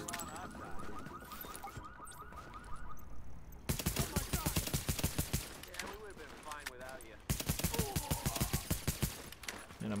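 Rapid automatic gunfire in the video game The Division at the Hudson Refugee Camp, dense bursts of repeated shots in two long stretches, alongside an alarm-like tone and someone talking over the action.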